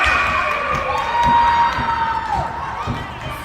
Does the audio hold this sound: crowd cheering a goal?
yes